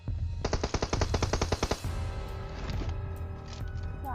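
Gunfire in the battle royale game PUBG: a rapid, loud burst of about a dozen automatic shots, followed by fainter scattered shots and rumble trailing off.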